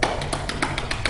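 Quick, even half-beat tapping with two taps filling each full beat, around seven short, light knocks in rapid succession, close and unaccompanied by talk.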